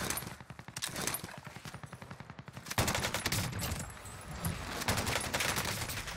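Rapid automatic rifle fire in Call of Duty Warzone, dense bursts of gunshots rattling continuously, with heavier, louder volleys in the second half.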